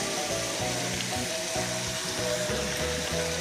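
Frying sizzle from a pan of cabbage, capsicum and green chilli with egg, a steady close hiss with a few light tonal clinks, no voices.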